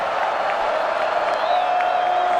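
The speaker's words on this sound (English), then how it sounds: "Crowd rising to its feet here." A football stadium crowd rising to its feet at a college game, a broad, steady roar of cheering from far off, with a whistle-like tone running through it.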